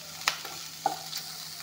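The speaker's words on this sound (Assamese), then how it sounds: "এতিয়া বিনখিনি ভালকৈ ভাজি ল'ম" Beans tossed with bay leaves sizzle quietly in a pan over low heat, a soft steady hiss broken by a couple of sharp clicks from stirring.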